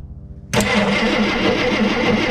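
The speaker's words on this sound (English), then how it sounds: "wobble in the distributor shaft when you're cranking the engine" A 1958 Dodge Coronet Lancer barn find with a suspect distributor cranks after a brief pause, then churns loudly and steadily under the hood, close up, with no talking.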